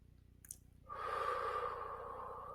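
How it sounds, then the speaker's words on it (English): One deep breath is drawn in slowly and close to the microphone, a soft steady airy rush lasting nearly two seconds after a brief click, with no talking. "let's take a deep breath."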